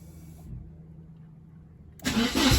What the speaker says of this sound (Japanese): 同じ気温で、アクセルを少しだけ踏みながら、エンジンを始動させた時の動画です。